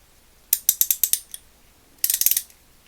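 Plomb / Proto 5249 ratchet with a newer-style pawl, clicking sharply and close up in two quick bursts, first about six clicks, then a faster run of five or six after a short pause.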